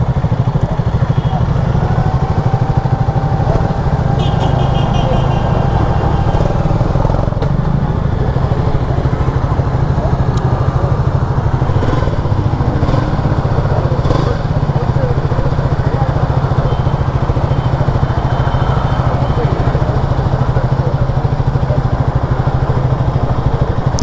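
A cold Triumph Speed 400 motorcycle engine idles loudly and steadily up close, with a rough, even chatter and occasional light mechanical clicks.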